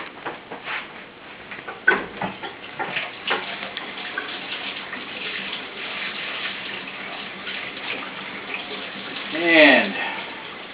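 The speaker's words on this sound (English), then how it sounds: "So you might want to run some hot water over it" Hot water runs from a tap over a vinyl hose in a steady, close, hissing stream with occasional clicks and a brief gurgling swell near the end.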